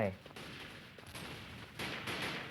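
Rapid bursts of gunfire in the video game Bleak Out crackle over a steady noisy background, several volleys in quick succession.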